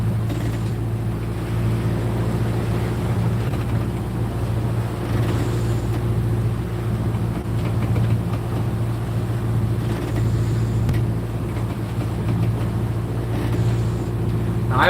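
A sailboat's auxiliary motor idles at about 1,000 RPM while motoring slowly out of an anchorage against a current, a steady low drone with constant loudness and light wind noise throughout.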